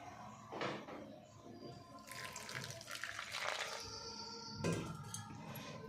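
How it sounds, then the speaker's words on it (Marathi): Water trickles and splashes in short pours into a spice mixture for stuffing cut eggplants, a few bursts added bit by bit at close range. "यामध्ये आपण आता थोडं थोडं पाणी टाकून घेऊया"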